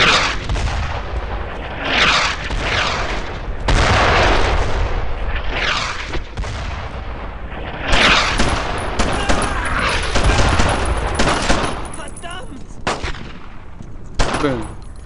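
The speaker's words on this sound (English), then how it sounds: "Why are y'all firing this fast?" Rapid gunfire from a World War II shooter video game, with dense bursts of rifle and machine-gun shots and booming blasts running continuously and loud throughout.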